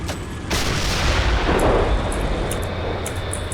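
A tank main gun fires in the Steel Beasts 4.3 combat simulator, crewed as a T-72B3: one heavy, booming blast that rolls out into a long, loud rumbling tail with no voices over it.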